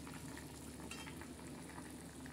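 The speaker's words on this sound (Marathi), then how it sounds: "ते बघा असं कशी छान अशी उकळी आलेली आहे डाळीला" Moong dal simmers at a boil in a pot for dal fry, giving a soft, steady bubbling and faint sizzle that stays quiet and even throughout, with no voices.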